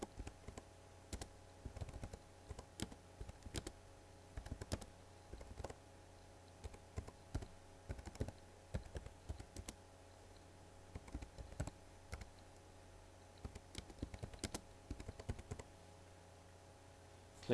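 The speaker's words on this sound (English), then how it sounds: "Now begin your map by overtyping the central idea with your own title." Keys clatter on a computer keyboard as a map title is typed in, an uneven run of soft clicks spread across the whole stretch over a low steady background hum.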